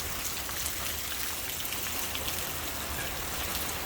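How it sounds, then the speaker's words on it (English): Rain pours steadily onto a tin roof during a storm, a dense, even hiss and drumming of countless drops that stays constant throughout with no voices. "Ooh, lots of rain."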